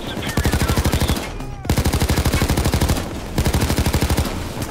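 Assault rifle fire in PayDay 2: three long bursts of rapid, evenly spaced automatic shots, loud and close, separated by short pauses with game sounds.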